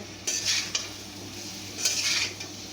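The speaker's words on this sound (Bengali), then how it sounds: "মশলাগুলোর সাথে সবজিগুলোকে ভালো করে মিশিয়ে নেব" Vegetables with cumin and red chilli powder are stirred in a pan, two bursts of scraping and clinking from the spoon against the metal, each about half a second long, over a quiet low sizzle with a faint background hum; no speech.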